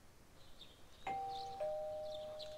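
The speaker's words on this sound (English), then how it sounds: "You hear the doorbell ringing." A two-tone ding-dong doorbell chimes in Persona 4, two clear sustained notes ringing out one after the other over a quiet background.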